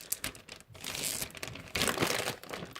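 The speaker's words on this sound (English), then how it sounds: "So I'm just going to zip these up." Plastic zip bags holding portioned meat being sealed shut, with close, quiet crinkling and rustling of plastic in irregular bursts and no talk.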